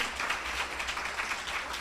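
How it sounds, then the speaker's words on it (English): Brief, fairly faint applause from an audience at a sorority chapter's 40th anniversary celebration, an even wash of clapping with no talk over it. "Let's give those ladies a big round of applause"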